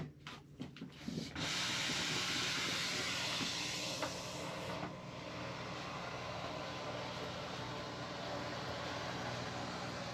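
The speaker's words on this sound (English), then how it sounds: "That enables it to put out even higher PSI of steam right into the carpet" A Dupre Neat steam cleaner blasts high-pressure steam into carpet as a loud, steady broadband hiss that runs almost continuously after a brief sputtering start.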